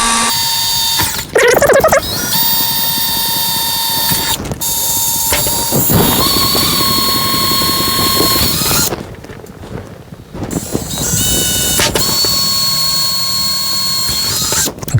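Power drill boring pilot holes for a cat door installation, whirring in sustained bursts with short pauses and a brief stop near the middle, loud and close with no talk.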